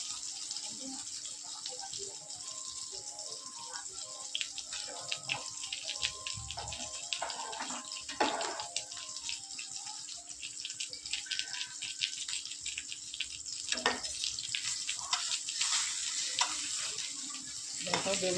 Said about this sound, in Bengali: বেগুনটা ভাজা হচ্ছে